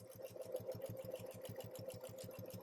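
A Bernette b08 sewing machine runs at full speed while stitching through a quilt, its needle beating in a fast, steady rhythm with a constant motor hum, close and alone.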